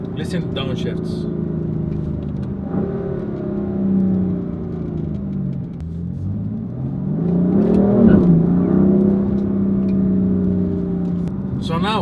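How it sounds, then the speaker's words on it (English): BMW M4 engine droning loud and steady, sagging in pitch then climbing and revving around eight seconds before settling, consistent with downshifts and blips under continuous road rumble. "Listen to downshifts."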